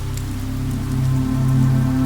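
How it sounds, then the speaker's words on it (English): Heavy rain pours down in a steady, dense hiss that swells slightly louder toward the end, with a low hum running underneath and no voices. "It's one of those nights where the world outside is being lashed by a relentless downpour."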